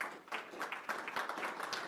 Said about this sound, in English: Big hand of applause for Mobile TV Group